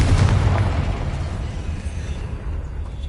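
A Confringo blasting spell bursts in Hogwarts Legacy as a heavy, booming explosion at the start, its low rumble slowly fading across the rest of the moment.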